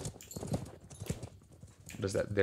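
Horse archers' hooves pounding in the Mount and Blade video game, a busy galloping clatter that runs under steady talk, with a louder burst of activity near the end.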